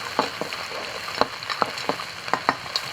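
Doubanjiang bean paste sizzles and fries in a hot wok for luosifen, with steady crackling spatter and quick clicking stir strokes of a spatula, close and busy, no talking.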